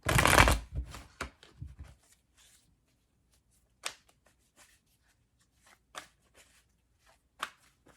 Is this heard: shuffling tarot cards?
yes